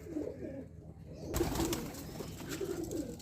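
Pigeons gather at a dish of grit feed, giving soft low cooing calls that come and go against quiet rustling background noise.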